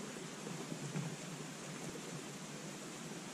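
Steady rain hisses down over a campsite among huge leafy plants at a farm in Prusia, a continuous wash of drops with no clear thunder and no talking.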